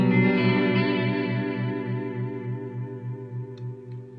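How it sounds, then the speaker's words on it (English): A GFI System Clockwork Delay 2 digital delay pedal plays a sustained guitar tone whose repeats ring on and decay slowly, with a slightly rolled-off high end and a faint modulated warble throughout. "So that's the basic core delay sound."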